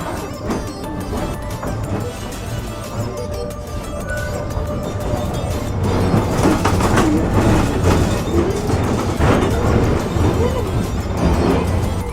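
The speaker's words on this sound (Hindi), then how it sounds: "ये देखो गाइस, ये ऐसी ट्रेन्स होती हैं, डबल डेकर ट्रेन" A double-decker train passes in Zurich, rumbling and clattering steadily, growing louder midway as the cars roll by close, with city ambience around it.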